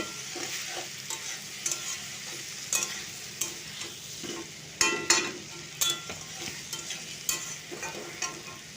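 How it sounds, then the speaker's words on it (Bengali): Softened onions stir-fried in a pan for a jackfruit curry, with steady sizzling and repeated scraping strokes of the spoon at an even rhythm, close and moderately loud with no talking. "পেঁয়াজগুলো আমার নরম হয়ে এসছে আমি আবারও মিশিয়ে একটু ভেজে নেব"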